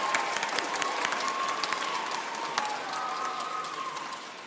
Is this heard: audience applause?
yes